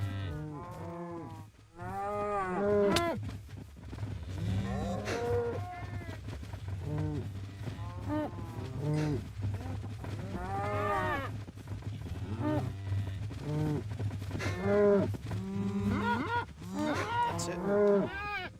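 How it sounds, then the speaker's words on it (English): Cattle moo repeatedly inside a farming video game, several overlapping low drawn-out calls from a herd ready for harvesting, loud and steady over a constant low hum, with a voice occasionally heard. "we're ready to start harvesting these cows pretty quick here"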